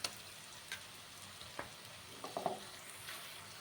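Ginger garlic paste frying with onions in a pan, a quiet steady sizzle broken by a few light stirring scrapes and clinks.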